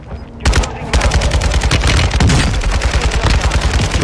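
Automatic gunfire in Warzone 2.0, a loud, rapid fusillade of shots close by, firing continuously across the whole moment with overlapping bursts.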